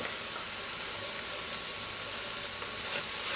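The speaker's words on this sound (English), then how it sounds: "I'm going to cook my beef and my onion. Mix it well. And now I'm going to add my garlic." Beef, onion and garlic fry in a pan for an Arabic green bean stew, giving a soft, even sizzle and hiss that holds steady and fairly quiet throughout, with no talking.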